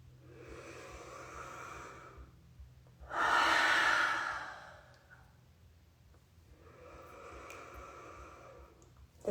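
A person breathes deeply and slowly, up close, in three long breaths, with the middle one loudest and most forceful, in a quiet room with no talking.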